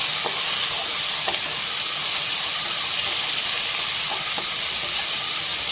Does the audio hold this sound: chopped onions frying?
yes